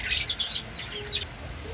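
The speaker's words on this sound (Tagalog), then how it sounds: "papakita ko sa inyo yung mga alaga kong ibon na nasa loob ng bahay na ito sila" Several pet birds kept indoors at home, a pale fallow and dilute pair among them, chirp and tweet in quick bright bursts at close range, with no one talking.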